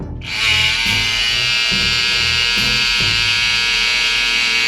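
A Haunted Mansion novelty item gives off a loud, steady electric buzz that sounds like a leaf blower. It starts abruptly and holds at a constant pitch, with a faint low pulsing underneath.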